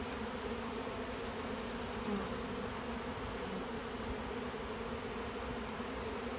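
A honey bee swarm drones steadily around a box in the open, a dense continuous buzz of many bees that stays even and close throughout.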